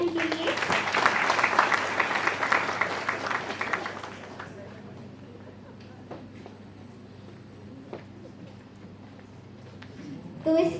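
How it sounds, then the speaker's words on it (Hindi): Audience applause at a farewell fiesta event, a dense burst of clapping filling the first four seconds before fading into quieter room noise, with a faint voice near the end. "तो जोरदार तालियां इनके लिए।"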